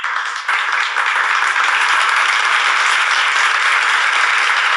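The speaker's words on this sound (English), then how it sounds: "It's a slow build to get to claps." Applause and clapping heard from down a hallway late at night, a dense wash of many hands with a bit of reverb, steady and fairly loud after a brief softer start, with no talking.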